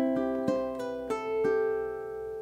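Solo ukulele fingerpicking a short bar of the alternate ending in a beginner tutorial, with about five plucked notes at a moderate pace and the last note left to ring and fade.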